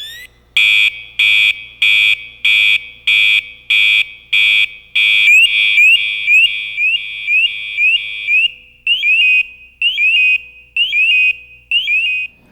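Firefighter PASS device alarm sounds loud and shrill, first as a series of evenly spaced piercing beeps, then as a rapidly warbling, chirping tone with short breaks, alone with no other sounds.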